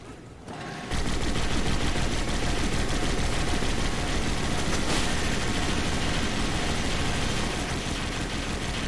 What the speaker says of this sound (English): They literally firing on my side now.